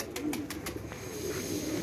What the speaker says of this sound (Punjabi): ਕਬੂਤਰ ਡਰ ਰਹੇ ਨੇ